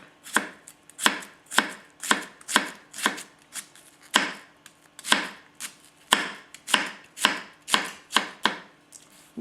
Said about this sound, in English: You can feel it lift the onion just a little bit.